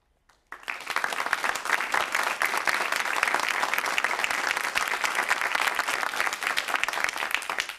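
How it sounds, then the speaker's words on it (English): Audience at a televised town hall on guns in America breaks into steady, dense applause that starts abruptly after a brief pause and holds at an even level to the end, with no talk over it. "Those who believe no, please applaud."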